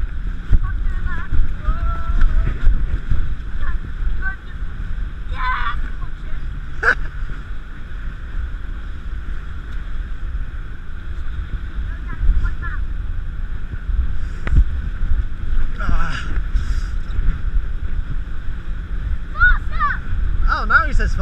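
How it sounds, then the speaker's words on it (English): Near a beach on a sunny afternoon, a loud boat engine drones steadily underneath, while people talk over it and gusts of wind buffet the microphone. "There's a loud engine"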